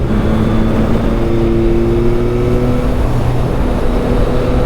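Steady engine drone at close range, loud and continuous with a faint whining tone, like a motorcycle being ridden.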